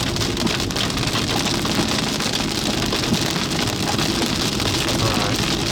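Hailstones pelting the ground during a severe Kansas storm make a dense, loud, constant drumming roar that goes on without a break.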